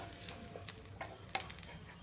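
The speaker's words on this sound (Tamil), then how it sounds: "இந்த பிரெட் துண்டுகள் நல்லா பொன்னிறமாகிற வரைக்கும் வறுத்து எடுத்துக்கோங்க." Bread pieces frying in melted butter give a soft, steady sizzle with faint stirring scrapes and a small clink, quiet and close throughout.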